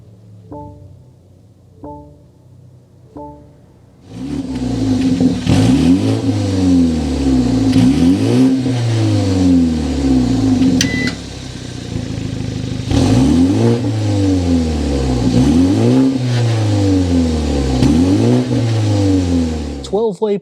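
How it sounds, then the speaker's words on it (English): A 2024 BMW 330i sedan starts up and its engine revs repeatedly, each loud exhaust surge rising and falling in a rhythmic series, preceded by a few short chimes from the cabin. "start it up, so you can hear that exhaust note"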